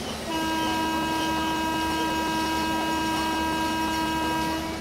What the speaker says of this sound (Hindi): यहाँ पर हमारे दोनों हॉर्न बज चुके हैं, हमारी ट्रेन को यहाँ से जाने का सिग्नल मिल चुका है